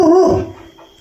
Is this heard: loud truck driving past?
no